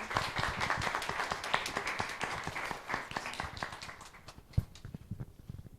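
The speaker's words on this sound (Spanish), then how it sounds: "Un fuerte aplauso y gracias por estar aquí, José, bienvenido." Scattered audience clapping welcomes a speaker at an Impact Days event, a fairly sparse patter of individual claps that gradually thins out toward the end.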